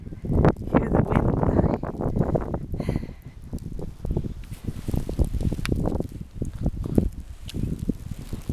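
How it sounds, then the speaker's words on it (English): Wind gusting through snow-laden trees in a blizzard, a steady broadband rush with fluctuating bursts and rustling, fairly close and continuous, with faint crunching in places. "Hear the wind"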